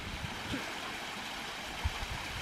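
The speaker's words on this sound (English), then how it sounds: "here's the second waterfall" The second waterfall at Spring Creek, a bushland stream, flows in a soft, faint, steady trickling wash with a couple of small low bumps, no voices.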